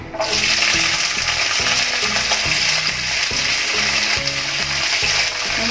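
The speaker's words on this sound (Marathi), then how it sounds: "आपण इथे पॅन मध्ये तेल तापत ठेवलंय आणि त्याच्यामध्ये आपण ही गवार परतून घेणार आहोत" Cluster beans (gawar) hit hot oil in a pan and sauté with a loud, constant hiss and sizzle, punctuated by repeated rhythmic scrapes of stirring, close and prominent, with nobody speaking.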